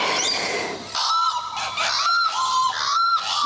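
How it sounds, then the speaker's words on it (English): Loud honking calls from geese or similar waterfowl along the Darling River, repeated in bursts and overlapping, fairly close with a steady noisy background. "The locals get a bit noisy. Plenty of bird life around here."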